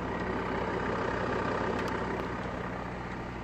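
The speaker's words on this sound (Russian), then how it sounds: "Наверное, слышно, как мотор работает?" A Mercedes W211 engine idling with a steady low rumble and constant hum, continuous and unchanging, heard close up without speech.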